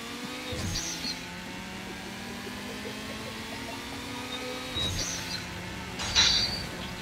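In the Faster Than Speed arcade racing game, a race car engine revs and accelerates, a fairly quiet, steady synthesized motor tone with pitch rising in waves, plus a couple of brief bright effect sounds.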